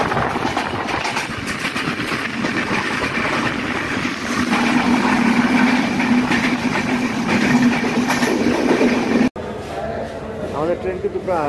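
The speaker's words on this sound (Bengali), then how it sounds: "আমাদের ট্রেন কিন্তু প্রায় নাটোর থেকে নন স্টপ চলে এই যমুনা সেতু পশ্চিমে এসে দাঁড়ালো" A passenger express train on the Natore to Dhaka line runs steadily on its rails, a loud continuous rumble with clattering wheels that drops off abruptly near the end, while a voice talks over it.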